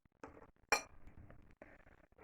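A metal teaspoon clinks against a dish while baking soda is measured and poured for a homemade recipe: several light taps, then one sharp, bright clink, followed by softer scraping and rattling up close.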